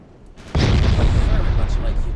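Naval gunfire from battleships in the warship game Ultimate Admiral Dreadnoughts: a sudden heavy boom opens into a sustained, loud rumbling roar that holds steady and slowly fades, with a voice talking over it.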